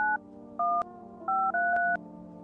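Telephone keypad tones sound in a video game's phone roulette, four crisp dual-tone beeps in an uneven sequence with short gaps, clear and close over a faint low hum.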